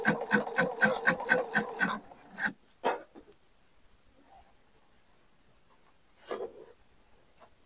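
A sewing machine with a twin needle stitches along the edge of a fabric strip on a homemade girl's dress, running in a quick rhythmic burst for about two seconds, then a few faint handling sounds follow.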